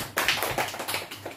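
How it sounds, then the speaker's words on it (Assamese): Students in a classroom clap their hands together, a dense run of overlapping claps lasting a second or so, fairly close, with no talking. "ভেৰি গুড হাত চাপৰি দিয়া"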